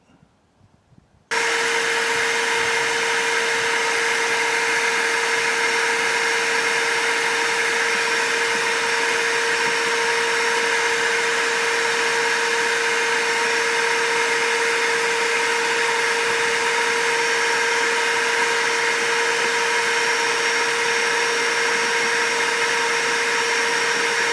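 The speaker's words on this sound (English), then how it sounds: "So we're going to vacuum this out." A vacuum cleaner starts after a brief quiet moment and runs with a loud, steady whine and roar, sucking up debris around a copper battery connector being repaired.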